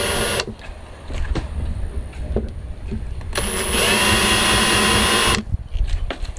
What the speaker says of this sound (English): and then now I'm gonna countersink them